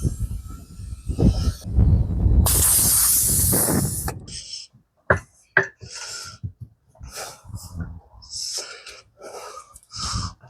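Air hisses loudly as a tire is inflated to about 10 psi during a street tire swap, a sustained rushing blast at the start followed by short sharp hissing bursts, alongside someone speaking.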